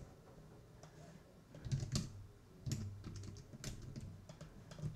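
Commands are typed on a computer keyboard in a quiet room, with close, crisp clicks that come in short uneven bursts and a few heavier key strikes, and no talking.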